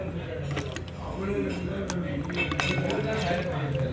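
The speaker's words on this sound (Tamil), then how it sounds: "தண்ணியில் நம்ம கழுவிக்கலாம்." Mangoes are washed by hand in water, giving steady splashing, sloshing and light clinks of fruit against a vessel, with no one speaking.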